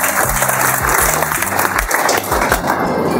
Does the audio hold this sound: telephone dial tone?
no